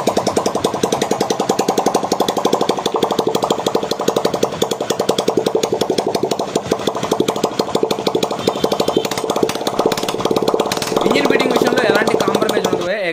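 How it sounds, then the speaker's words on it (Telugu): A rebuilt vehicle engine runs for an engine beating test, giving a loud, fast, steady knocking rhythm that persists throughout at close range, rising slightly in intensity near the end before cutting off. "ఒకసారి ఇంజిన్ బీటింగ్ అయితే టెస్ట్ చేయండి."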